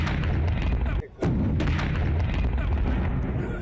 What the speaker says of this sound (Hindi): जोरदार धमाके की आवाज आपने सुनी। धमाका खुले में नदी किनारे किया गया